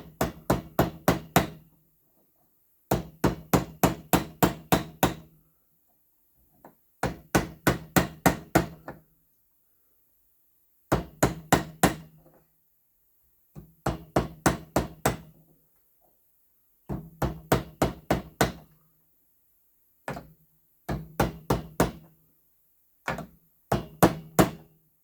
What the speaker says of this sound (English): every tab here, I hammer again on a little bit with a hammer